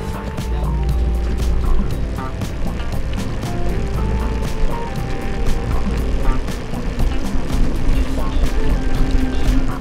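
A bicycle tire rolls steadily along the ground during a ride, heard up close as a continuous loud rumbling whir with small rhythmic ticks, no talk.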